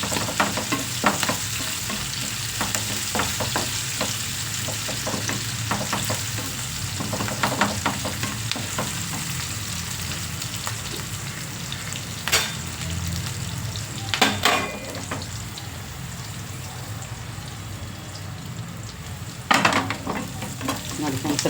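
Onions fry in oil in a pan with a steady, close sizzle and crackle, broken now and then by brief scraping and stirring clatter, with no voices.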